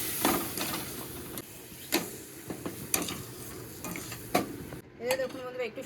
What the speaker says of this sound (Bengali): এবার অল্প অল্প করে চিনি শিরাটা দিয়ে দিচ্ছি।